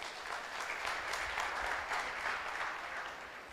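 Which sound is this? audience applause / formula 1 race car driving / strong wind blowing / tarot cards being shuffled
audience applause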